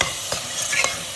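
A mixture fries and is mashed in ghee in a pan, a soft continuous sizzle with a few quick scraping strokes of a spatula, close and without any voices.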